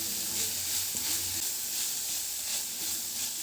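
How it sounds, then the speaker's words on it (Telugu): Turmeric spice mixture frying in a pan for a wheat-flour snack, a steady close sizzle with occasional stirring scrapes and no talking. "ఒక నిమిషం పాటు ఫ్రై చేసుకుంటే సరిపోతుంది ఇలా కొంచెం పసుపు వాసన పోయేంతవరకు వేయించుకుంటే సరిపోతుంది"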